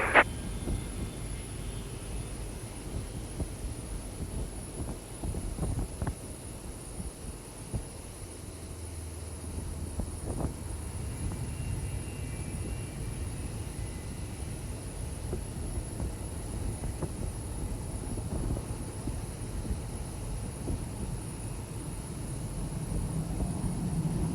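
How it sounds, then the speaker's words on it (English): Zibo Mod Boeing 737-800 engines spooling during pushback in the X-Plane 12 flight simulator, departing Denver: a steady low roar with a thin high whine, continuous and fairly loud throughout, with occasional soft thumps and no talk. "Starting pushback, and you may start engines."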